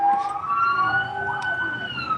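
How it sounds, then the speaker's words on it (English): A fire engine siren wails as it passes by, its tone sliding up and down over steady road noise, fairly loud throughout the short stretch. "here we have a fire engine passing by"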